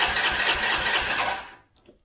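A Honda Elite 150 scooter engine cranks and catches with a loud, close whirring buzz that cuts off after about a second and a half, leaving near silence.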